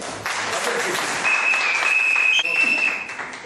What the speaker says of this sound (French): Applaudissez l'homme.